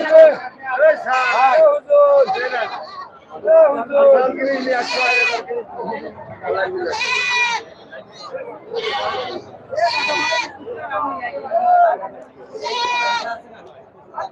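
Black Bengal goats at a busy goat market bleat repeatedly and loudly, calls overlapping one another in close, irregular bursts over a constant murmur of crowd chatter and people talking.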